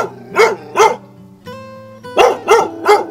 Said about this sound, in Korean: 담장 너머까지 개 짖는 소리가 요란합니다